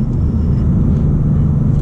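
Road traffic rolls past a waiting 2019 Mustang GT, a loud, close, low rumble of passing vehicles that holds steady for a moment.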